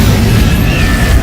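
An Incendio fire spell in Hogwarts Legacy bursts out as a loud, dense, booming blast that fills the moment from start to finish, with no voice over it.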